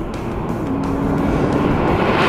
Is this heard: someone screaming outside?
no